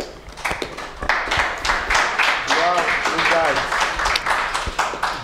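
Congregation applauding during a church service, steady overlapping hand claps carried under a voice speaking and some sung tones, close and lively throughout.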